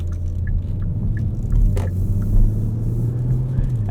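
Steady low engine rumble of a 2018 Kia Stinger GT RWD sports sedan on the move, heard from inside the cabin, a constant droning tone swelling slightly mid-drive with faint clicks and rattles.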